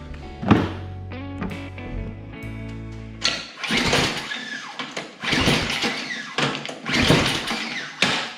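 The pull-start cord of a broken snowblower is yanked repeatedly, each pull giving a rough ratcheting rasp and thunk, loud and close, and the engine never catches.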